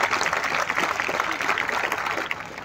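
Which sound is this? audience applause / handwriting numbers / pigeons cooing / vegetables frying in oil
audience applause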